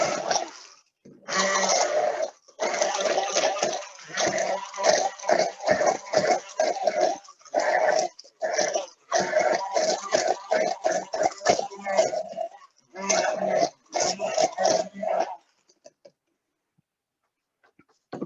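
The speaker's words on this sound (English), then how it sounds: "you don't need to sit and listen to my immersion blender" An immersion blender runs through food in a kitchen during a food preservation demonstration, whirring in short, choppy bursts with brief pauses between them before it stops near the end.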